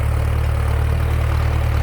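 A Massey Ferguson MF5710 tractor engine running at a steady idle, heard close up as a constant low, throbbing rumble with no variation.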